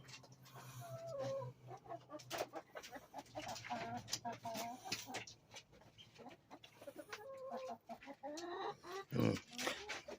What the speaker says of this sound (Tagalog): Guinea Fowl po ang tawag sa kanya.